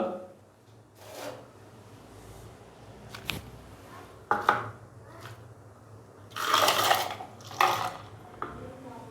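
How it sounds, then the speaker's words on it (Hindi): Ice cubes clatter into a blender jar for an apple banana milkshake in a few separate bursts of knocking and rattling, close by, with quieter handling noises between the drops. "अभी मैं इसके अंदर हस्बे ज़रूरत बर्फ़ डाल दूंगा"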